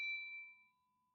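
A single bright notification bell ding rings out clearly and alone, its tone sustaining and slowly fading away.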